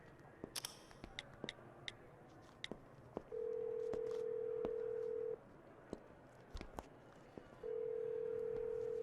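A telephone call rings out on a landline handset, with faint clicks followed by two long, steady ringback tones against a quiet room background.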